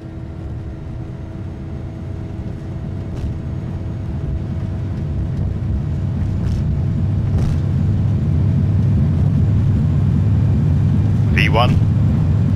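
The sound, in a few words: airliner takeoff roll in a flight simulator game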